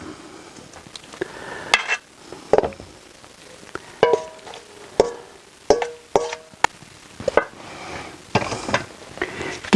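Lamb goes into a pot with tomato and aromatics and is stirred in a wood-fired oven kitchen. Metal clanks and scrapes from the spoon against the pot come in irregular bursts with quiet gaps between them.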